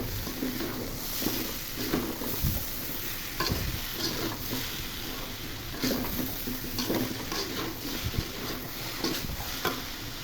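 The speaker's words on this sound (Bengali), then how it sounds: "ভাজি নেড়ে ছেড়ে কিছুক্ষণ পর নামিয়ে নেব।" Pointed gourd and potato bhaji frying in a pan, with a constant sizzle broken by repeated spatula strokes scraping and tossing the vegetables, heard close up without speech.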